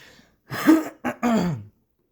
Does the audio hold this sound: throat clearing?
yes